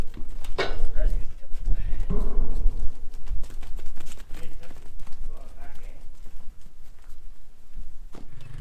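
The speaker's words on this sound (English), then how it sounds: "Right, that's the sheep back in the field." A flock of sheep runs back into a field during fallen tree removal, with a dense patter of hooves over rough ground and people talking throughout.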